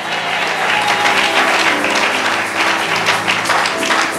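A church congregation at a Sunday worship service breaks into loud, sustained applause and cheering, a dense, steady roar of many hands filling the hall from start to finish.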